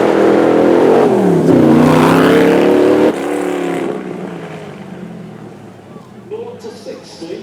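An Ultimate GTR supercar powered by a Chevy V8 roars loudly as it accelerates through rising gears, then the thunderous engine note cuts off and fades into the distance, with a voice talking over it.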